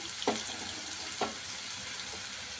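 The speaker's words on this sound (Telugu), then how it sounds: "అలా పేస్ట్ మనం పచ్చి వాసన పోయిందాక మనం ఒక ఫ్రై చేసేసుకున్నాం" Ginger-garlic paste with turmeric fries in a pan after onions for an Andhra-style brinjal curry. The sizzle is quiet and steady, with two soft scrapes of a spoon stirring, and nobody speaks.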